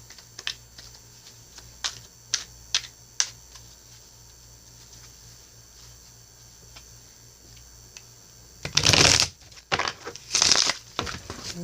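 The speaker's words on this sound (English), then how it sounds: "I'll go ahead and shuffle for you." Quick riffling snaps of tarot cards being shuffled, then a burst of scattering, slapping card noises as they spill everywhere.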